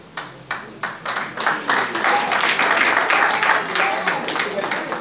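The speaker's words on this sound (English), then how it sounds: "Round of applause." Congregation at a church Sunday service breaking into applause, a few separate claps swelling into steady sustained clapping from a crowd, with voices talking over it.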